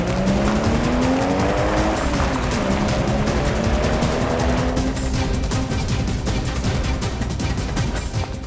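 A car swerves hard with tires screeching loudly, a long squeal that bends in pitch over a continuous roar of engine and road noise, close and intense throughout.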